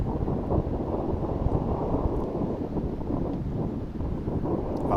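A strong crosswind blows across an outdoor disc golf course at a charity tournament, a continuous low roaring buffet on the microphone that stays loud and steady throughout, with no voices over it.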